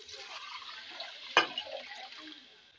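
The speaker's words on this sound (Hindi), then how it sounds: "हमारे पास आधा किलो चावल थे तो हम इसमें 1 किलो पानी डालेंगे" Water being poured into a cooking pot over half a kilo of rice for matar pulao, a soft continuous splashing and trickling with a brief louder splash midway, fairly quiet and close, with no talk.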